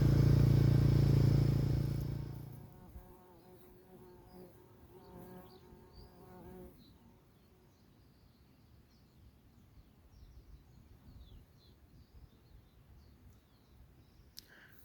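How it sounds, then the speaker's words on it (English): Bumblebees nectaring at Phacelia flowers across a field: a loud close buzz fades after a couple of seconds, leaving soft buzzing among faint bird calls in open air. "there are lots of bumblebees nectaring at this Phacelia all across the field"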